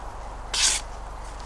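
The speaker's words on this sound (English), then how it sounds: "harder to cut than printer paper" A KA-BAR knife slices through a sheet of lined paper in one brief, crisp hissing swipe near the middle, with a faint second rustle toward the end over quiet room tone.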